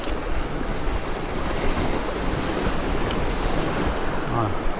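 Wind buffets the microphone over steady surf breaking on a beach during fishing, a loud continuous roar with no talk.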